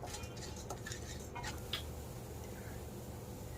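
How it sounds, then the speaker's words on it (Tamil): Chana dal dry-roasts in a pan, with faint scattered rattles and scrapes of stirring early on that fade into a quiet, low background hum. "இப்போ கடலைப்பருப்பை சேர்த்துட்டு ஃபர்ஸ்ட் நல்லா வறுத்து எடுத்துக்கலாம்"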